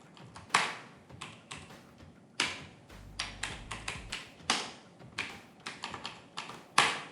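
Typing on a computer keyboard while writing HTML list tags: irregular bursts of close, crisp key clicks and taps with short pauses, no voices.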